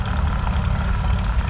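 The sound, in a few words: Farmall H vintage tractor engine idling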